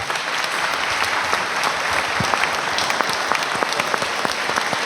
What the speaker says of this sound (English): Let's give our presenters here a round of applause.